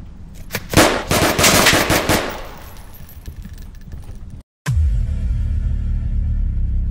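Loud, rapid machine gun bursts crackle in the night-time hunter mode of the VR game Onward, a dense fusillade in the first couple of seconds that fades into scattered shots, then a brief cut and a low rumbling drone.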